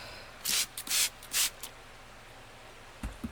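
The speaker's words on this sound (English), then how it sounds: "A spray bottle for these roots." Three quick hissing bursts from a spray bottle misting the roots of a field-collected hazelnut bonsai, close up, followed by a few soft taps and a couple of brief sprays near the end.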